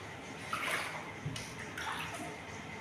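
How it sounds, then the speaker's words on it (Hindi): Floodwater sloshes and splashes softly inside a flooded house, near a cupboard holding water, a continuous low watery wash with small splashes and no clear talk. "ये अलमारी के अंदर पानी है ना"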